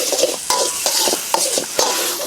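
Chicken offal stir-fries with fresh chili and garlic in a pan over a charcoal stove, loud close sizzling broken by regular scraping strokes of the spatula.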